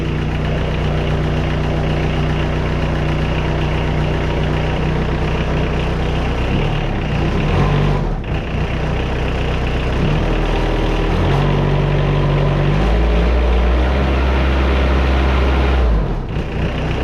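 A 1998 WoodMizer LT40 Super Hydraulic sawmill engine idles at low RPM, a steady, loud, close rumble with a few shifts in pitch and load, and no talking.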